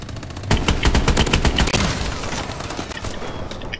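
EPM3 gun firing in Call of Duty Advanced Warfare, a rapid sustained burst of loud automatic shots with an even rhythm, close and alone.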